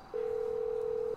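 A single steady telephone dial tone sounds in a video game phone call, one clean continuous beep lasting about a second against quiet background noise.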